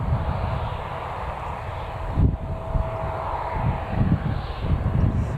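Emirates airliner at Newcastle Airport during boarding, a steady broadband engine roar and rush holding throughout at moderate distance, with a brief louder swell midway and no talk.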